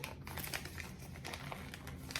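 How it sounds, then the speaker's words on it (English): Plastic makeup packaging for a foundation product is torn and crinkled by hand, a close, continuous crackling rustle with sharp bursts throughout, no talk. "Over here trying to rip it open."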